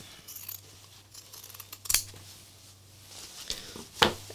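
Scissors cut through material for a fabric flower craft, with two sharp, distinct snips standing out over quiet handling noise in a calm room.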